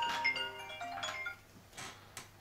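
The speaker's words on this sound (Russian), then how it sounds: "Ну вот кто-то тут звонит." A phone rings for an incoming call, with a tonal electronic ringtone that sounds for about a second and then fades. Quieter clicks follow, and no one speaks.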